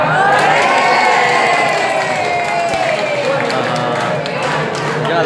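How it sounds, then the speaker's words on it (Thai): A large crowd at the 2018 Chak Phra boat procession festival in Hua Thai cheers loudly and continuously, with shouting and whooping voices merging into a dense, unbroken roar close by. "คนกำลังเชียร์กำลังลุ้นกันอยู่ว่าเป็นวัดอะไร"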